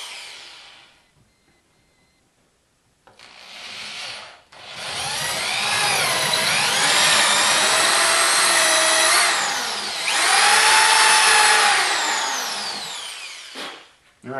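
Power drill boring 7/8-inch holes through material for a vertical-axis wind turbine, a loud steady whine with rising and falling pitch sweeps in two long bursts, after a few brief starts, close by with no talk.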